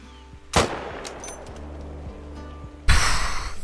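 Two sharp, loud hunting-rifle shots in the game Call of the Wild, each with a brief echoing tail, spaced a couple of seconds apart over a quiet outdoor ambience.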